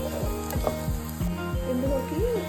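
Fried egg tossed with other ingredients in a pan for egg fried rice, giving a steady sizzle with repeated scraping strokes of a spatula, close up and fairly quiet, no talk.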